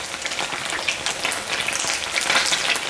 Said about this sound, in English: Give it a quick stir fry here.